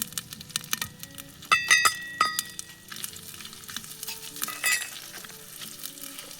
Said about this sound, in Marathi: हे भाजलेला कांदा आणि भाजलेलं खोबऱ्याचं वाटण आहे तर हे चांगलं परतून घेते